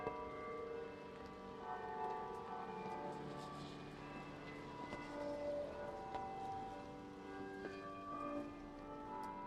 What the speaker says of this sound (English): And you hear Jingle Bells playing now?